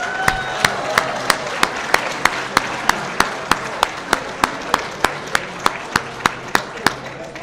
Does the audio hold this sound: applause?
yes